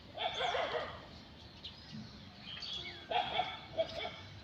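A dog barks in a Bangladeshi village, a couple of short bursts at moderate distance, with birds chirping faintly around it in quiet outdoor air.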